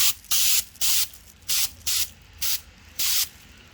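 Airbrush spraying leather dye onto a Peugeot 207 CC leather car interior, seven short, sharp hissing bursts in a steady rhythm with quiet gaps between, close and loud.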